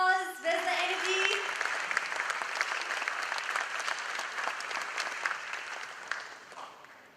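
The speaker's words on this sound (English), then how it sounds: "And round of applause." Audience applause fills a live face-to-face talk event, a dense, steady wash of clapping that starts after a brief tonal sound and fades slightly toward the end.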